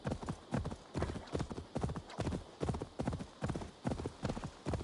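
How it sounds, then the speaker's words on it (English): Horse hooves galloping hard in Assassin's Creed Valhalla, a steady, loud, close rhythmic clip-clop pounding in regular beats throughout with no talk over it. "I am really running the horse hard."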